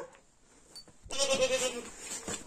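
A farm goat bleats loudly and close, one long wavering cry following a quieter stretch with faint background noise.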